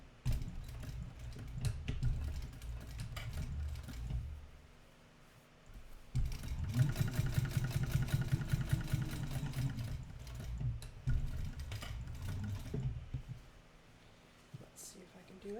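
A sewing machine topstitches a bag at a sewing class, running in a steady rapid mechanical whir for several seconds between shorter bursts, with someone talking quietly over it.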